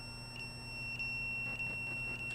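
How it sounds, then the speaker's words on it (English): A home alarm sounds in a room, repeating a short, piercing electronic beep about every half second over a steady background hum. "It's set off the alarm."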